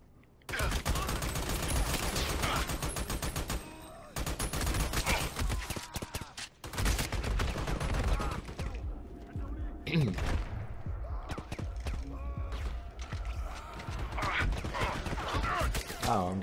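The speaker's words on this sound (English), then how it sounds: "Oh, I'm getting shot." Sustained bursts of rapid gunfire from the video game Army of Two hitting the player, dense and loud with brief gaps, a voice talking over parts of it.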